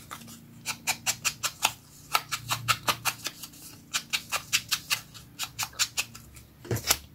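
Rapid scratching bursts close by, repeated in quick runs with short pauses between, as cats' claws rake at a door.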